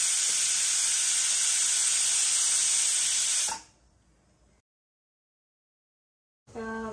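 A pressure cooker of dal, taken off a switched-off stove after five whistles, vents steam in a loud, steady hiss that cuts off abruptly after about three seconds, followed by near silence and a brief tonal sound at the end.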